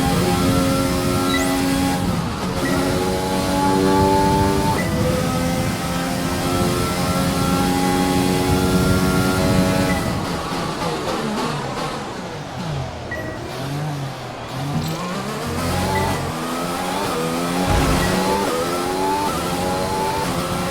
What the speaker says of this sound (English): Cars on the track.